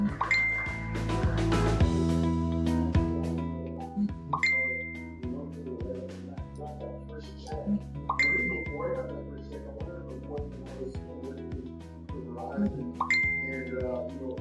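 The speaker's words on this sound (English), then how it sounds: "Phone's blowing up here." A phone gives repeated short, bright notification dings, spaced a few seconds apart, over a steady musical backdrop.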